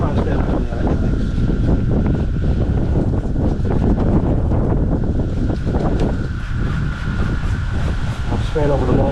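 Steady, loud hiss of water being sprayed over an RC car to clean it, including over the motor, continuous and close with no breaks.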